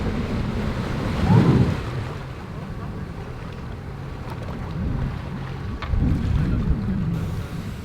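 A boat pulls away from a marina lined with superyachts, a low steady rumble of its engine mixed with wind buffeting and water noise, fairly close throughout.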